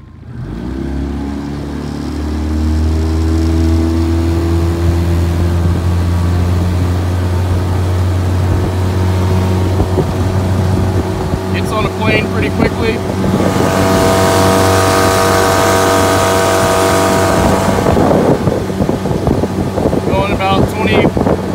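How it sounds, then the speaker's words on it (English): A 15 horsepower Mercury outboard motor on an Alumacraft 1448 jon boat, steady humming drone that rises as it revs up, running loud and close with wind buffeting the microphone. "15 horsepower Mercury outboard."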